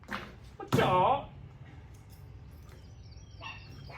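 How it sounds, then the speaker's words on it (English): A single loud, close dog bark bursts out near the start, followed by quieter background noise and faint distant sounds, with no other clear barks. "Got the dogs fired up."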